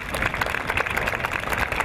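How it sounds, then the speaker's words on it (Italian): Audience at a fashion show in Casalpusterlengo breaking into applause, a brief burst of dense, close clapping that stays even throughout. "Un applauso."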